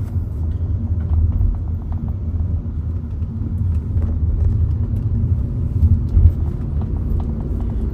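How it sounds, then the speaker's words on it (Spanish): Steady low engine and road rumble from a Lexus LS400 driving along a winding road in Spain, continuous and fairly loud from inside the car, with no talking. "solo quería enseñar que el coche se puede conducir por sitios así también y se puede disfrutar mucho si no pillamos tráfico"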